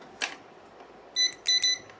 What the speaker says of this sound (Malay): Set mode buzzer. Kalau dia bunyi maksudnya okey lagi lah.